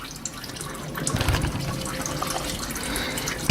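Engine oil drains steadily from the oil filter area of an Audi A-series car being serviced, a continuous close liquid trickle and splash with no voices.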